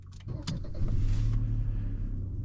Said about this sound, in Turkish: Ve aracımızı çalıştırdık.